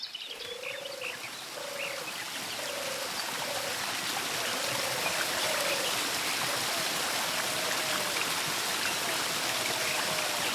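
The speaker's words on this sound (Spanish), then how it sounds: "El agua se recogía aquí, en el manantial, desde una arqueta cerrada" Spring water runs steadily at the Fuente del Euro, the source of a Roman aqueduct, a broad continuous rushing flow heard close, with a faint repeating bird call threading above it.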